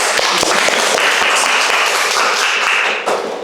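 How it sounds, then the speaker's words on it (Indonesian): Classroom applause for a group presentation at an Indonesian teaching session, a short burst of brisk clapping from a small audience, fairly close and loud, tapering off at the end. "Kita kasih tepuk tangan ya."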